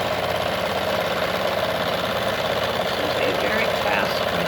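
A Kenmore 92 sewing machine stitching with a cam fitted runs in a steady, continuous mechanical whir with constant vibration and no pauses, close up and fairly loud.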